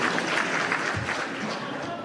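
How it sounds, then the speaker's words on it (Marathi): An audience claps at a Marathi gathering, a steady burst of applause that carries straight through the clip alongside some background talk. "हिच्यासाठी काका टाळ्या वाजवा"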